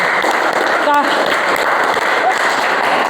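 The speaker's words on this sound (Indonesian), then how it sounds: "Tepuk tangan untuk teman kalian." Classmates clap for a pupil after a cooking-procedure presentation in an Indonesian classroom, a continuous wash of clapping with some voices mixed in.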